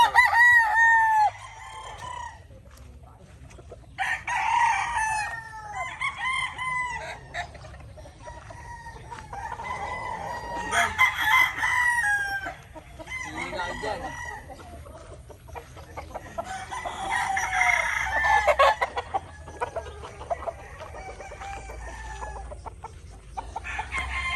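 Stags at a gamefarm crow again and again over a long stretch, several birds overlapping near and farther off, with scattered clucking between the calls and no talk.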